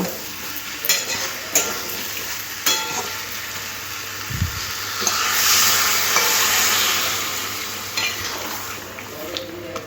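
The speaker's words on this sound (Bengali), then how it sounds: "একটু নাড়াচাড়া করে খুব ভালো করে মিশিয়ে নেব" Pumpkin, Malabar spinach and prawns are stirred in a sizzling pan with a spatula, giving repeated scrapes and knocks over a continuous frying hiss, and one low thump partway through.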